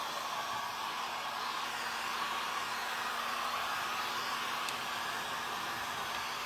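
Hair dryer blowing steadily to dry paint on a vintage metal tray, a continuous even airy roar close by with no voices.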